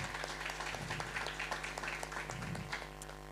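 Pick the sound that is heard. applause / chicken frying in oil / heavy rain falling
applause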